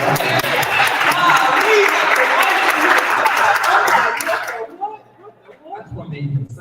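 Audience at a Pensacola networking event gives loud, dense applause for about four and a half seconds, then it cuts off and voices speak.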